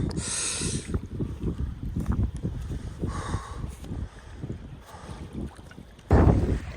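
Gusty wind on a fishing trip along the Qatar coast buffets the microphone in rumbling bursts, with breathy voice-like sounds over it and a sharp heavy gust near the end.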